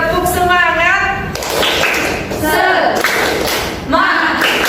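A small classroom group bursts into a rhythmic round of hand claps in short bursts, with voices chanting between and over the clapping.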